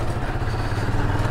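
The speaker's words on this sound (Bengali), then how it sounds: "তো বের হয়ে গেলাম ফাহিম ভাইয়ের বাইক নিয়ে।" A motorcycle engine rumbles close by as the bike sets off, giving a steady low throbbing drone with a slight clatter, fairly loud and heard without talk.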